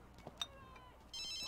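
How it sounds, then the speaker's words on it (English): A cell phone rings in The Sims 2, a faint electronic ringtone starting abruptly after a few soft clicks and holding steady to the end. "Okay, can you answer your phone?"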